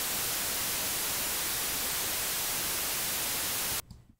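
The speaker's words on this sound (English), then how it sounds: "For my input carrier signal, I'll be using white noise." Steady, loud broadband hiss fills the air evenly for several seconds, then cuts off abruptly into near silence.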